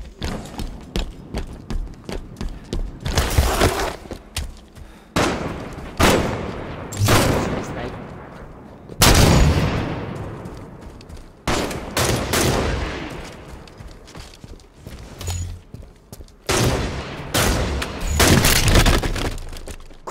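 Gunfire in a Halo 5 match, with repeated sharp loud cracks and bursts including sniper shots, spread irregularly among other battle noise and effects.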